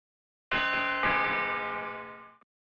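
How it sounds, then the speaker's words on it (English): Bell-like doorbell chime from the lock system in the Jump Start 3rd Grade video game: one bright tone, then a second struck about half a second later, ringing on and fading over roughly two seconds, heard alone with no talk. "Ring the doorbell to start the chimes."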